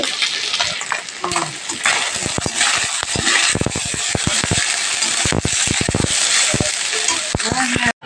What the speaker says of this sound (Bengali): এই যে মাছের ডিমের বড়া, আমার ফেভারিট। এই যে ভাজা হয়ে গেছে, আর একটু পরে তুলে দেবো।